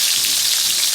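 Oxtail browns in a hot skillet, giving a loud, steady, dense sizzle of frying meat up close with no voices.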